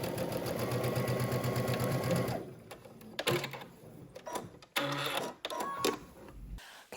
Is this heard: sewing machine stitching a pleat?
yes